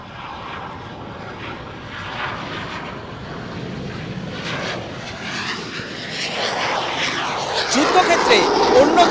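A British-made Hawk jet trainer's engine roars at Kalaikunda air force station, a steady broadband rush that swells louder toward the end, heard alongside background voices.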